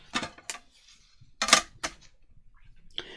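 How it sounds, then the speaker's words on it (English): Old vintage music paper being torn by hand to strip off its margins, several sharp ripping bursts at irregular intervals, close and crisp with quiet gaps between. "So let's just tear the margins off on here."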